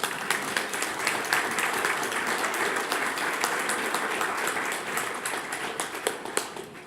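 Audience applause fills a business awards evening hall, steady dense clapping from a crowd throughout, with occasional louder individual claps near the end.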